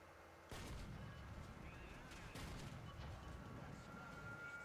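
An RU251 tank fires a HESH cannon round in War Thunder: a sharp, loud blast about half a second in, then a second heavy report midway, over a continuous rumbling background.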